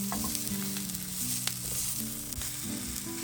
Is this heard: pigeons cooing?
no